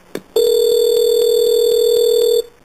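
A telephone tone on a 911 emergency dispatch line sounds as an incoming call connects: a short click, then a loud, steady electronic tone held for about two seconds before cutting off.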